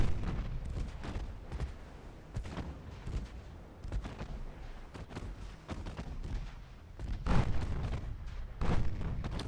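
Secondary naval guns firing in Ultimate Admiral Dreadnoughts, a battleship naval game: irregular sharp booming reports, some clustered, with rumbling echoes between shots over nearly ten seconds.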